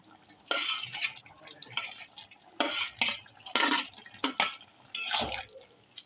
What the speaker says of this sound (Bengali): তো চিংড়ি মাছগুলো দিয়ে আমি বেশ ভালো করে নেড়ে নিলাম তরকারিটা।